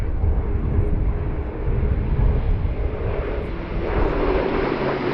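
A German Air Force Airbus A400M turboprop transport roars through a steeply banked turn at a flying display, its engine noise a steady, loud broadband drone throughout.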